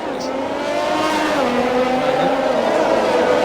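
Race cars in a racing sim at Imola set off on the formation lap, engines droning and revving with rising and falling pitch, a steady moderately loud tone that continues without a break.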